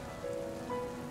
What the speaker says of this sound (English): It's raining quite a lot, actually.